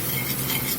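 Garlic is stirred in a hot skillet for bourbon pepper steak, a brief loud dense sizzle with steady scraping, close and continuous.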